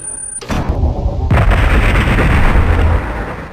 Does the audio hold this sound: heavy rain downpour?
no